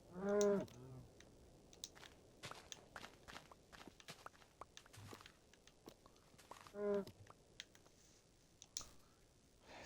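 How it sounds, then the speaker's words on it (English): Two distinct cow moos from the video game Minecraft, one at the start and another partway through, separated by soft clicking and footstep sounds, with no talking. "If I hear one more moo, I'm gonna go crazy."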